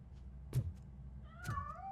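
Cat meowing in RoboCop: Rogue City, with two short, fairly quiet meows about a second apart, the second one rising and drawn out.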